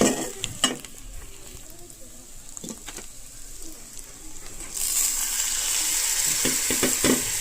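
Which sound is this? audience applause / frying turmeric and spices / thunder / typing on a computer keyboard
frying turmeric and spices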